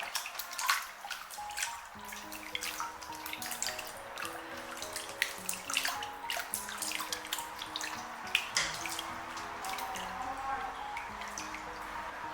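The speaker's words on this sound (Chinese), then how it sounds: "现在加水来调洗，然后呢把脏水倒掉" Running water from a tap splashing into a sink or bowl while pig intestines are rinsed and the dirty water poured off, a steady close wash with intermittent splashes and clinks throughout.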